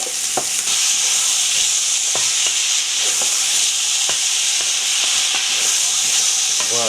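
Tomatoes and turmeric sizzle steadily in a hot pan for Cari Babafigues with sausages, a constant close frying hiss broken by occasional scraping knocks of stirring.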